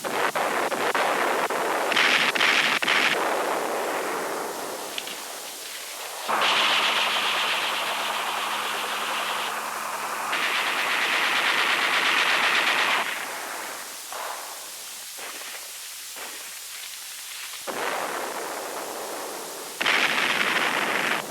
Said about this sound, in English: The Navy provides fire support for ground operations.